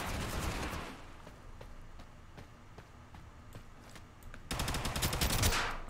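Video game gunfire from hip firing: a rapid automatic burst opens, then single spaced shots crack over quieter ambience, and a second dense burst of fire follows near the end.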